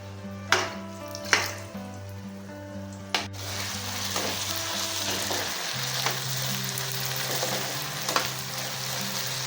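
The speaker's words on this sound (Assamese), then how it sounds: "আলুখিনি বৰ ভালকৈ ফ্ৰাই হ'ব লাগিব।" Potatoes fry in a pan alongside fiddlehead fern greens and pork, a steady crackling sizzle that continues after a few sharp knocks of a utensil early on, with low kitchen hum beneath and no speech.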